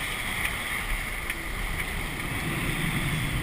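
A sailboat runs at sea under all sails set, including the fisherman sail, with a steady wash of wind and water rushing around the hull, fairly loud and constant without talk.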